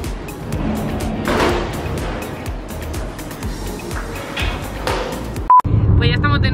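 Car driving on a road heard from inside the cabin, a steady low engine and road rumble with people talking over it, ending in a brief loud thump and beep.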